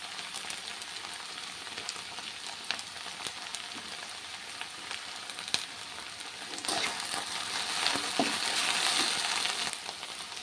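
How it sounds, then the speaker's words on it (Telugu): Okra frying in an open kadai gives a close, continuous crackling sizzle with occasional stirring clicks and scrapes, the hiss swelling louder toward the end, with no voices. "మనం కడాయి తీసేసిన మూత ఒక 2-3 minutes ఫ్రై అవనిద్దాం, జిగట పోయేంత వరకు"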